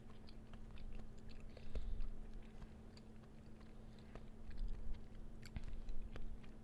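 Someone eating food with wasabi, close and quiet, with soft repeated chewing and small crunches over a low steady hum, no talking.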